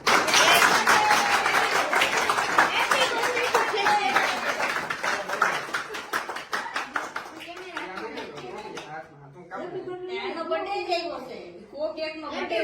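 Clapping from a group of people at a party celebrating 100K subscribers: dense rhythmic hand claps for the first several seconds, then fading into excited talk and chatter.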